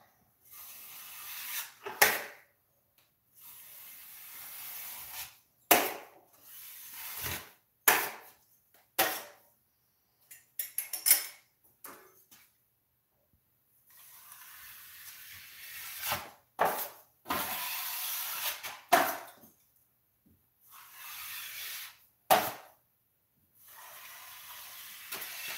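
A bent drywall knife scrapes joint compound across a butt joint, long rasping strokes repeated a dozen or more times with short quiet gaps between them, close and clear.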